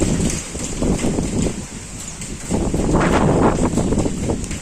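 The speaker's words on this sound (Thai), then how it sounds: "ลมแรงมาก" Strong wind blows outdoors at dusk in the countryside, a continuous broadband roar that swells into louder gusts, buffeting the microphone with no voices present.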